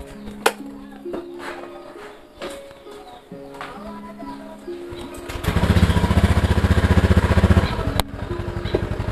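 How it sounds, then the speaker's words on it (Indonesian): A motorcycle engine starts partway through and runs with a loud, steady, close rumble, after earlier quieter moments with scattered sounds and voices. "Tapi kita naik motor aja ya."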